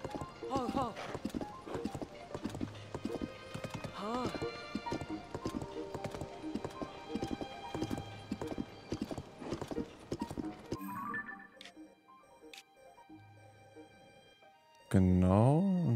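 Steady rhythmic clip-clop of horse hooves in The Legend of Zelda: Tears of the Kingdom, with a brief whinny and people chatting over it; the hoofbeats stop partway, then a louder burst.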